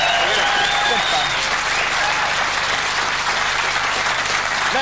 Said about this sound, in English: Round of applause for Alistair.